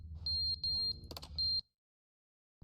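A smoke alarm in a video game chirps in short, loud, high-pitched beeps, three bursts with a brief clatter in between, then silence.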